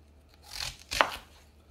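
A Milk Street Kitchin-To knife cuts the ends off an onion on a board: two quick, crisp slicing chops a moment apart, close and fairly clear.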